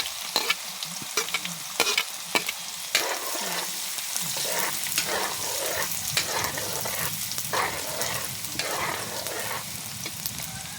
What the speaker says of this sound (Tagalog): uminit na yung mantika natin. Lagay na natin yung bawang.